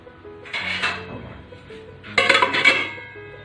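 A metal lid is set onto a cooking pot of radish and fish curry in a home kitchen: two bright clattering clanks with ringing metallic tails, the second louder and sharper, nearby and without talk.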